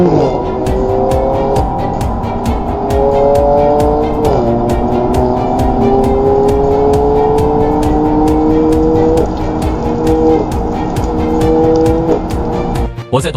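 A BMW M3 with a 3.0-litre twin-turbo engine pulls hard at full throttle toward 7000 rpm. Its loud, close engine note climbs in pitch in several successive sweeps, with brief dips between them.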